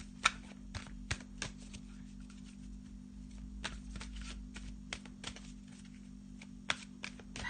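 Cards from a Power Animal deck being shuffled by hand, a run of sharp riffling snaps and soft slides close up, with quieter gaps between bursts and a steady low hum underneath.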